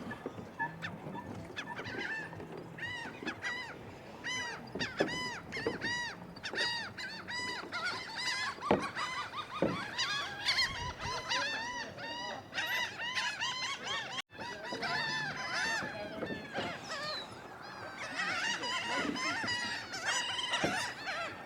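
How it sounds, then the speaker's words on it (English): A dense chorus of seagulls squawks and calls nonstop around the Wildwood, New Jersey boardwalk, many birds close by with overlapping cries and no talking. "Even the seagulls love the pizza here"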